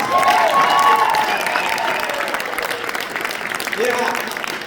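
A crowd at a live speaking event applauds and cheers, dense clapping with raised voices and whoops above it, loud at first, easing, then swelling again toward the end.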